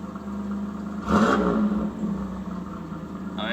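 A 1991 Pontiac Firebird's engine running after a cold start, a steady close mechanical hum and whir with a short swell in the middle, no talking.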